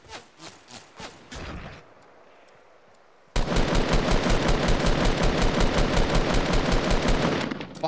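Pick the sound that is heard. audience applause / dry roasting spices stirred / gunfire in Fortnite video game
gunfire in Fortnite video game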